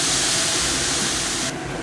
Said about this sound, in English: I also got to put it into a 1/4 cup of beef broth.